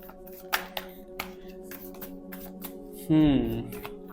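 Tarot cards shuffled by hand in short riffling bursts and soft taps, close and fairly quiet, with a louder slide of cards near the end; someone speaks throughout.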